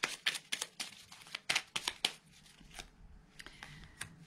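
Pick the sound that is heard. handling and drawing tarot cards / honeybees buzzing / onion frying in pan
handling and drawing tarot cards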